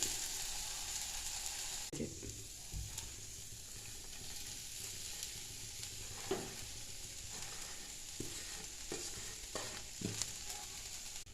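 Onion, green chili and turmeric frying with popping mustard seeds in oil for a cabbage stir-fry, a steady low sizzle broken by scattered crackles and scraping stirs, close up with no talking.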